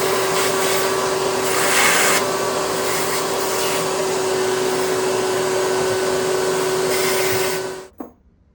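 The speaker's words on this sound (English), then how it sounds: "I'm going to vacuum out." A vacuum cleaner runs loud and steady while cleaning out parts of a 1977 Johnson 9.9 hp outboard motor, its constant whine holding for about eight seconds before abruptly cutting off with a short clunk.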